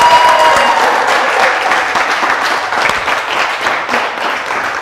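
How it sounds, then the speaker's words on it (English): A crowd applauds steadily, dense clapping that fills the space and tapers only slightly over a few seconds. "Ladies and gentlemen, give them a round of applause."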